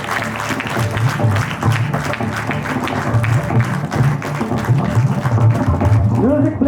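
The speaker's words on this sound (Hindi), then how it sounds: "श्रोताओं की तालियों के बीच किया" An audience applauds at an installation ceremony with sustained, dense clapping that carries on throughout, while a voice and a low hum sound beneath it.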